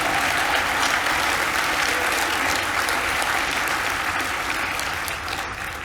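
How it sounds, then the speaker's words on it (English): Loud, sustained applause from a crowd at the PPL annual breakfast, steady clapping throughout that eases slightly toward the end. "That's an applause line."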